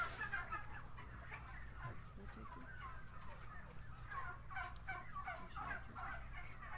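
Turkeys gobbling and clucking inside a climate-controlled barn, many birds calling in overlapping bursts over a low steady hum of ventilation, faint voices in the background.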